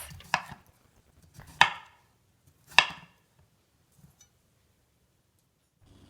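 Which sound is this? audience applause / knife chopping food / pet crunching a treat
knife chopping food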